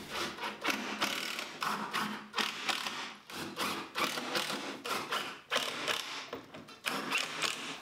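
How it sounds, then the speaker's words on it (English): A drill drives pocket hole screws into a wooden nightstand in a run of short, bursty whirring pulses with brief pauses between them, close and fairly loud. "Now we're going to attach it with pocket hole screws."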